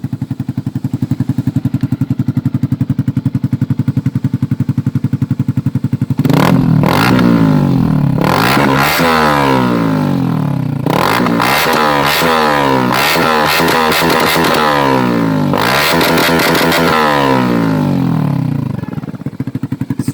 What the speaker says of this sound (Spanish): mostrándoles sonido tubo de escape SC Project en Yamaha R15